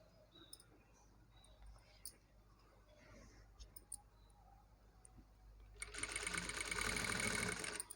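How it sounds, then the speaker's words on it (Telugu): A sewing machine stitches piping at the shoulder joint of a neckline. After quiet handling clicks and taps, the machine starts up loud and close with a fast, steady whirring hum of stitching. "ఇక్కడ జాయింటింగ్ అయితే పర్ఫెక్ట్ ఉందా లేదా ఒకసారి చెక్ చేసుకున్న తర్వాతనే మనము ఇక్కడ స్టిచ్ చేసుకోవాలండి జాయింటింగ్ దగ్గర"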